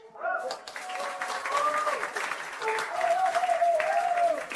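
An award ceremony audience applauds, a moderate patter of clapping that swells and continues beneath voices speaking over it.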